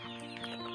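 Desi chickens on a poultry farm make a brief, faint clucking amid steady background noise.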